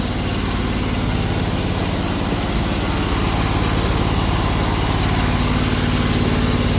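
A small engine bought on Temu runs right after starting, a steady loud buzzing drone at close range with no change in pace and no talk.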